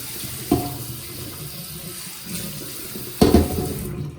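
Tap water running steadily into a sink while a cast iron pan is rinsed, with two louder splashing bursts near the start and end as the pan meets the stream, no voices.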